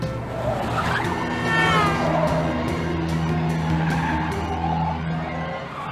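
In Spielberg's Duel, a car and a truck race side by side on the road, engines roaring as tires squeal and skid in long, loud screeches that rise and fall over several seconds.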